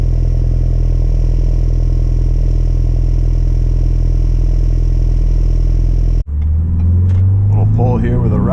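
A 2024 Ford Bronco with a 2.3L engine and Roush exhaust pulls away with a loud, steady, deep exhaust drone for several seconds, then cuts off abruptly as someone begins talking over quieter engine noise.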